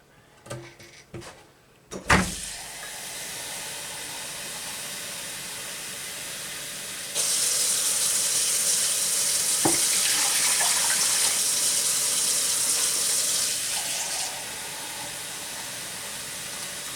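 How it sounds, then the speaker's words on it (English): Tap water runs steadily into a canner with a loud, even hiss, growing brighter and fuller partway through as the flow strengthens, then easing back near the end after a few clunks at the start. "Four cups of water in your carry canner."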